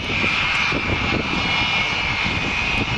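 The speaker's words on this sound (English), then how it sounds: "On her 16 main wheels, I can see her just touching down now." Avro Vulcan bomber jet engines roaring steadily as the aircraft touches down at an air display, a loud continuous rumble with a sustained high whine throughout, no voices.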